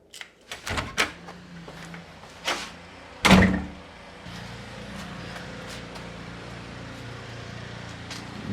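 A Mustang's car door shuts with a loud, close thunk, preceded by several lighter clicks and knocks. A low, steady rumble follows afterward, with no speech heard.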